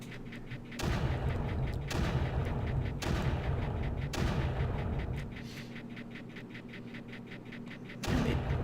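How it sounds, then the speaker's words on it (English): Bombardment of an emitter in the game Creeper World sounds as a series of heavy, booming blasts in steady succession, each a broad roaring burst, followed by a quieter rumbling stretch before another blast. "we're going to use this opportunity to just bomb the emitter location down"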